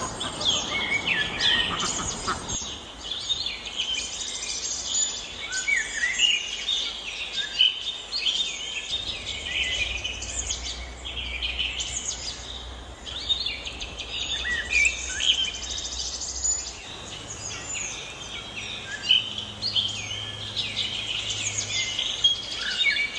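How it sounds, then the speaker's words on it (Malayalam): A crowd of small caged birds chirps and tweets continuously, busy overlapping calls filling the space at moderate loudness, with a low steady hum underneath and no talking. "നമ്മളാ കിളിക്കൂട്ടിൽ ഇതാ നോക്കിക്ക് കുറേ കിളികൾ"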